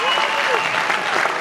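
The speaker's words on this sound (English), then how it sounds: "Round of applause, come on." Crowd applause at a Comic Con panel, steady and fairly loud throughout the short burst, with voices mixed in underneath.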